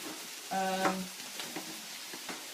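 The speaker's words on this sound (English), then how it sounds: "Mushrooms in a pan going" Onions and mushrooms fry in a pan with a steady low sizzle, a brief tonal clatter near the start, then a few soft stirring scrapes.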